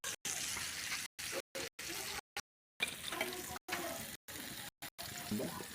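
Chicken frying in a pan in a village kitchen, a steady crackling sizzle broken by repeated short gaps, with faint voices in the background.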